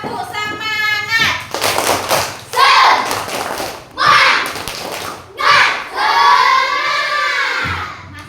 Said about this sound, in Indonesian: Oke, kita tepuk semangat dulu